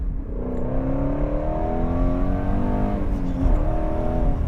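A 2017 Ford Mustang GT350 engine revs hard on a downshift to second gear, a loud rising mechanical drone with climbing harmonic tones and a brief blip near the end, heard from inside the car.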